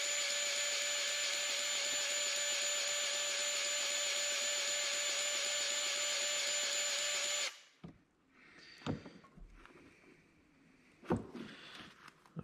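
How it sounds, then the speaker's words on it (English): A power grease gun greases a trailer wheel bearing while Dayton-style mobile home wheels are converted to stud pilot wheels. It gives a steady, loud motor whine for about seven seconds, then cuts off, leaving a few scattered knocks and handling clatter. "If you have a power grease gun,"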